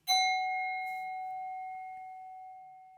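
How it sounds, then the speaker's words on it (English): A mindfulness bell gives one clear struck ring that sustains with a pure, slowly fading tone over about three seconds, heard alone. "the full ring, the full bell of mindfulness"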